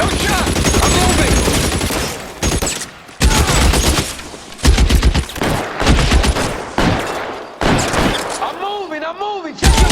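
Rapid gunfire and bursts from a PC shooter set in 1940s Los Angeles, L.A. Noire, clatter loudly and almost continuously, with shouted voices over the shots and brief gaps between volleys.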